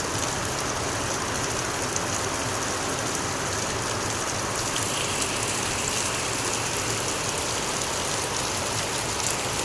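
Heavy rain pouring down steadily, a dense, loud, unbroken hiss of water on surfaces filling the whole scene without pause, with no voices.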